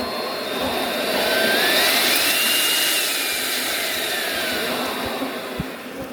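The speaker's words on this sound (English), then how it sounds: "Another good thing about this blower is it's a variable speed." A variable-speed blower runs steadily to blow bees off beehive frames, giving a continuous rushing whine that swells slightly in the first seconds and then holds, close and fairly loud.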